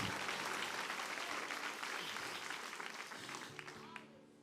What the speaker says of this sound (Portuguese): Mas se for aplaudir, aplauda bonito para a glória de Deus